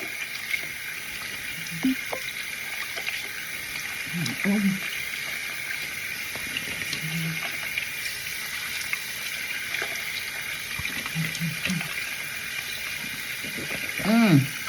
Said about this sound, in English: I'm washing away the sea salt and the thing.